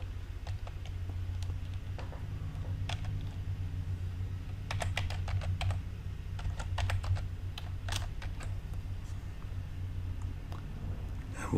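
Typing on a computer keyboard comes in irregular bursts of light clicking keystrokes, fairly faint and close, over a steady low hum.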